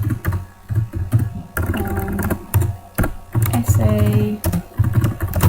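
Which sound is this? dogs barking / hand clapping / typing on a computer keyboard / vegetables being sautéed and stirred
typing on a computer keyboard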